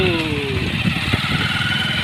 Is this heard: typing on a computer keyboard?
no